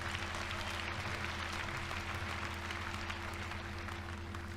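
Audience applause, dense continuous clapping held at an even level for several seconds over a low steady hum, with no speech over it.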